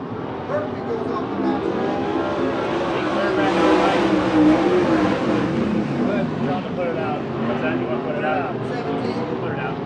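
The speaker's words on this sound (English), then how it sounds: "He makes a good smooth pass going to turns 1 and 2." USAC/CRA sprint cars race past on the track at Hanford, California, their loud engines roaring and whining in a rising and falling wash, while an announcer talks over the noise.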